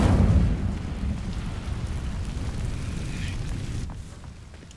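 Incendio fire spell from Hogwarts Legacy igniting dry vines, a loud whooshing burst that settles into a sustained low rumbling crackle of flames, fading out near the end.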